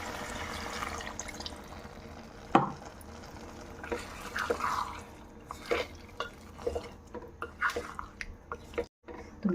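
Water goes into a simmering stingray fish curry in a pan: quiet drips and splashes with scattered clinks of stirring, soft and close, with no talk.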